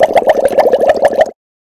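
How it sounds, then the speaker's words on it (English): Air bubbles glug out of a bottle held under water in a rapid, regular series of loud, hollow plops, stopping abruptly after about a second. "when the bubbles start to come out of the bottle, they're going quite slowly"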